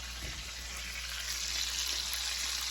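Bacon strips fry in a pan, giving a steady, even sizzling hiss with a low hum underneath, constant and close throughout.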